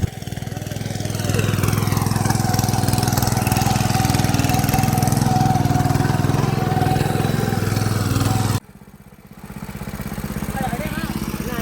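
A tractor ploughing a field drones loudly and steadily at close range, then drops abruptly quieter for a moment before resuming its low rumble; a voice speaks over parts of it.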